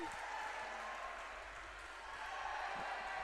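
A crowd at a women's volleyball match against Concordia University Chicago cheers and applauds without a break during a t-shirt serving contest, a dense, even wash of clapping and voices.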